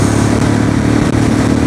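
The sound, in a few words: Royal Enfield Classic 350 motorcycle accelerating through gears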